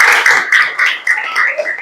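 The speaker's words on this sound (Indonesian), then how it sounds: "Tepuk tangan dulu buat Gustet ya" A classroom gives a short burst of applause for a student named Gustet, quick uneven claps from a small group of pupils lasting under two seconds.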